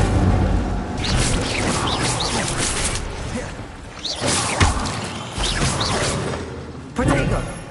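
A fire spell cast in a Harry Potter video game, set in a cave with an untouched chest, bursts out as a loud whooshing blast amid a dense mix of combat effects and other spell sounds.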